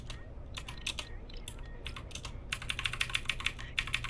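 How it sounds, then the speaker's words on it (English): Quick bursts of clicky keyboard typing, close by, in irregular clusters that grow faster and denser toward the end. "Can you guys hear me hitting my keyboard?"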